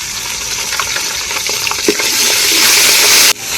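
Crushed garlic, ginger and green chilli sizzling loudly in hot oil for village-style pav bhaji, a dense continuous frying hiss with scattered crackles and stirring clicks, cutting off abruptly near the end.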